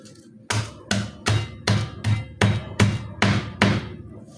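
Garlic being pounded in a home kitchen, ten sharp, evenly spaced thuds in a steady rhythm, close and fairly loud, with no talking over them.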